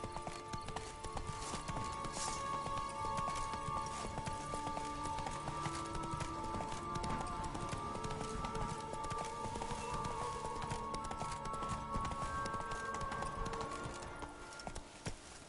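Horse hooves gallop in The Witcher 3, a fast continuous clip-clop beneath a layer of game music, moderately loud and close, fading slightly at the very end.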